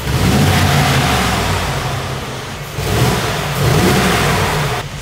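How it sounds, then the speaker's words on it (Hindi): A Mercedes-Benz G63 V8 engine revs loudly and steadily near a showroom, with a brief dip in the middle before the throaty roar swells again. No one speaks. "V8 इंजन है यार।"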